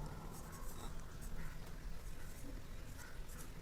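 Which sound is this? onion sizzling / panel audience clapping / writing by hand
writing by hand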